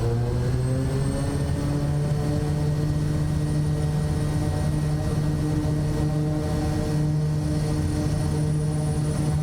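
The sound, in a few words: Kodiak 100 aircraft engine at takeoff power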